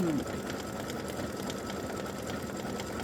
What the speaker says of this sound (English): Alright, so it stitches the S and then the I and then the H